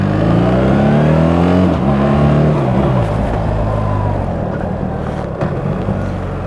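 A BMW R1300GS boxer motorcycle engine revs hard and close, its tone climbing through the gears before settling into a loud steady drone at speed.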